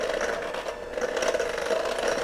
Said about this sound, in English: Start out on low so that you don't fling your flour and all your dry ingredients out of the bowl because you turned on your mixer too high